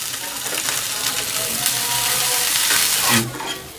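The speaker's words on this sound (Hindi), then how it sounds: "अब हम इसके अंदर डाल देंगे हरी मिर्च और प्याज" Green chili and onion frying in hot oil, a close, bright sizzle with intermittent scraping stirs and a louder burst near the end before it eases off.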